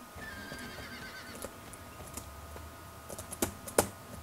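A horse whinnies in the video game Star Stable, a short, fairly faint high call near the start, followed by scattered computer keyboard clicks and taps toward the end.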